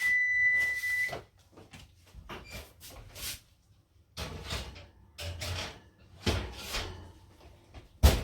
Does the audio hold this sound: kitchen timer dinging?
yes